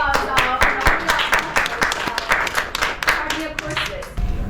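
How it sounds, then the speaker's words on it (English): An audience at an evening talk claps in a lively round of applause, with many hands close by, rising and falling for several seconds before thinning out near the end. "have some round of applause"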